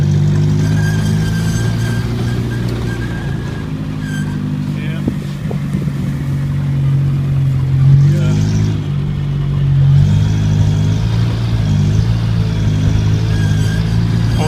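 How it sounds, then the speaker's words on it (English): A 1980 Chevy Luv engine idles too high after its carburetor jets were cleared of trash, a steady loud drone with a slight rise in pitch partway through, running continuously up close. "Now it's idling too high."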